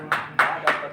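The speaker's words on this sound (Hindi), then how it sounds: "जोरदार तालियां।" Audience applause at a Hindi poetry book launch event, heard as three short bursts of clapping in under a second, fairly close and moderately loud.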